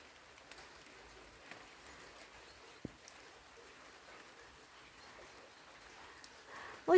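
Autumn rain falling during a walk outdoors, a faint steady patter with a few isolated drips and a brief rustle at the end.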